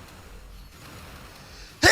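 A sudden loud sneeze bursts out at the very end, after a stretch of quiet background noise.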